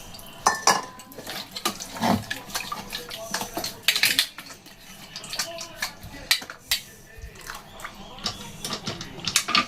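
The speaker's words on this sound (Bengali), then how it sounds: "সেই জলটুকু দিয়ে মিক্সিটা ধুয়ে দিয়ে দেবো" A mixer jar being rinsed with water left from boiling onions with cloves and cardamom, with splashing and sloshing water and several clinks of the jar and utensils close by, along with some voice.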